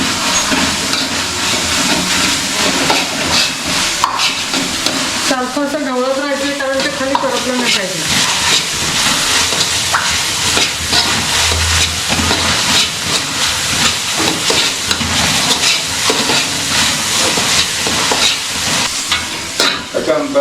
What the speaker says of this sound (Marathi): रोहन आपण हे जेव्हा परतत असतो किंवा फ्राय करत असतो त्यावेळेस गॅस तू स्लो ठेवणार